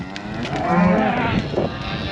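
A mob of cows being moved down a farm paddock in spring, one long, loud, close moo followed by a shorter low call beneath a steady outdoor background, with no talking.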